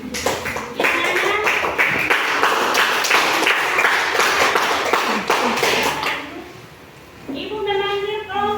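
A classroom of children claps together in a quick, dense burst that keeps going for several seconds, then fades out, with a teacher's voice and kids' chatter over the clapping.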